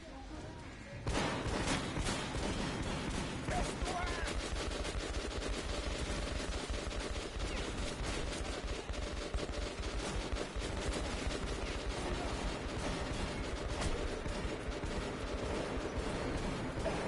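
Gunfire in the video game Metro 2033 Redux, dense rapid automatic bursts running almost continuously at loud level, with faint voices now and then underneath.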